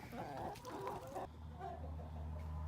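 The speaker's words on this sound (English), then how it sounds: "These guys are the escape chickens over here." Chickens cluck close by in a farmyard, a quick cluster of clucks followed by a few softer calls over a low background hum.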